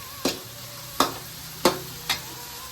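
Vegetables for noodles being stir-fried in a pan: four distinct bursts of tossing and scraping roughly half a second apart, each fading quickly over a low steady sizzle, close and moderately loud with no talking.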